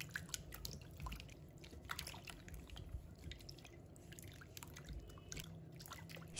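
Faint splashing, dripping and trickling water as a white radish is rinsed clean in a bowl, with irregular small taps and drips throughout at low volume.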